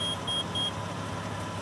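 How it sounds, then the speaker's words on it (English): Curb Alert parking system giving a quick series of about three short, high electronic chirps as the car starts, heard over a steady low engine hum. "When I start the car, Curb Alert reminds me that it's working every time with a series of short chirps"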